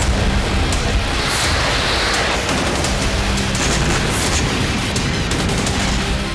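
A loud, dense barrage of rapid overlapping cluster munition explosions and booms from an ATACMS missile strike in Kursk, crackling continuously without pause.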